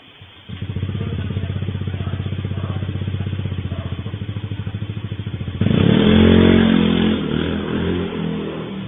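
A motorcycle engine chugs with a fast, even pulsing beat for several seconds, then surges louder and rougher as it accelerates close by, its revving note rising.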